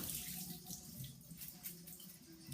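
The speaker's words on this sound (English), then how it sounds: "So I'm going to rinse those over here in the sink" A kitchen tap running into a sink while red lentils are rinsed: a soft, steady splashing flow of water, fairly faint, with small shifts in the stream as the grains are swirled.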